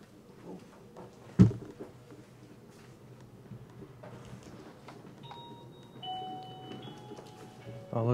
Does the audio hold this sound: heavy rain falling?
no